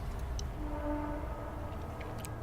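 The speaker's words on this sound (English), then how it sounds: "That's just a train." A distant train rumbles low and steady, with faint whistle-like tones drifting in the middle, quiet and far off, heard from a campsite in the woods.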